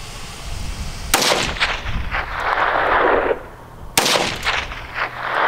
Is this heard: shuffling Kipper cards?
no